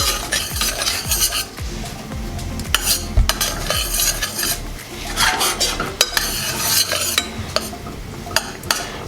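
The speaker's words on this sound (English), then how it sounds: "I'm going to keep on stirring until all this butter is nice and melted." Butter melting in a pan while a spoon stirs it steadily, with a soft sizzle and repeated scraping and clinking against the metal throughout, fairly close and without talk.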